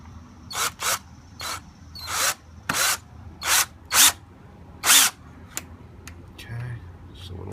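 A power drill runs in short bursts, tapping a thread with cutting fluid, about ten brief whirs with pauses between, close by and fairly loud, with faint mechanical clicks.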